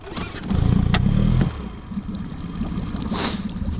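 A boat outboard motor on the Pechora river starting up, a loud rumbling burst of engine noise that cuts off after about a second, followed by quieter ambient outdoor noise.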